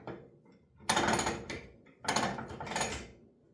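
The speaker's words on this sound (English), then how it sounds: "here's my impact gun right here anyway." An impact gun drives Phillips screws on a furnace gas valve during a teardown. It fires in two loud, close, rattling bursts separated by a short pause, with a quiet lead-in and tail.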